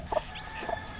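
Newly hatched McLean Hatch gamefowl chicks give two brief, soft peeps, a little apart, faint against quiet room noise.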